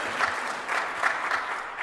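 Steady, dense clapping from a church congregation in honor of the Reverend continues without a break, sounding full and close.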